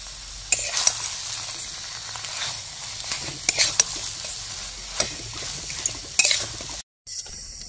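Slit green chillies being added to a sizzling cabbage paturi mixture as it cooks down; close steady frying with repeated clinks and scrapes of a spoon on the pan, then a brief drop to silence near the end.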